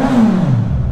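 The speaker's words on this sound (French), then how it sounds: "T'as vu, ça le fait quand même le 4 cylindres." A 2021 Suzuki GSX-S 1000 four-cylinder motorcycle in A2-restricted form revs close by, its engine note sweeping up and then falling away in one brief, loud burst.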